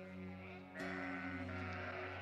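A large flock of several hundred ewes in an alpine pasture in Ubaye, bleating together with the jangle of their neck bells, a continuous chorus close by that grows fuller partway through.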